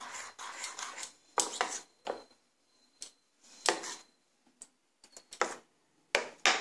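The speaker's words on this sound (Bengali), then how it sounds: "ভালো করে মিশিয়ে নেব।" A spoon works batter for a Bengali breakfast nasta around a bowl, giving close, irregular bursts of clinking and scraping separated by short pauses.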